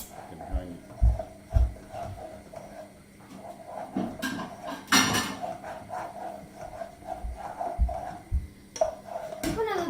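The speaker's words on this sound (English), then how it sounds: "So, I'm just going to get a plate." Large round ceramic plates clink and clatter as dishes are shifted and one is lifted out, with knocks and a sharp clatter midway, under a steady background hum.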